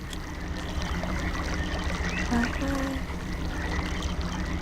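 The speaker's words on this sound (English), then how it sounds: "Okay, so the water is actually going." Water pumped by a windmill flowing steadily in realMyst, a continuous pouring, rushing stream with faint tonal game sounds layered over it.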